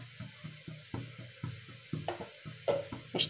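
Raw banana slices fry in oil in a pan over a medium flame, giving a soft sizzle with a steady rhythm of clattering pulses, close and fairly quiet, with a few sharper clinks near the end.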